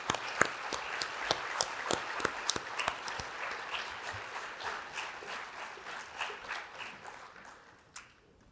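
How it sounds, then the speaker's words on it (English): Applause for honoured STEM teachers at a county teacher recognition celebration, a crowd clapping steadily from start to finish and fading away at the close, with one final sharp clap. "Please join me in another round of applause for our curious, bold, empathetic, and collaborative STEM honorees."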